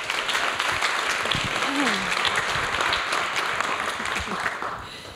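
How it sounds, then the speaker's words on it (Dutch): Audience applause welcoming a columnist and essayist to a discussion on beards and masculinity, a steady wash of many hands clapping that holds evenly for about five seconds with a few louder claps up close. "Geef ook Maurits een hartelijk applaus."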